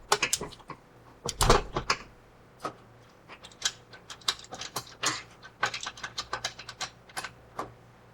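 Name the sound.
tightening bolts snug on e-bike rack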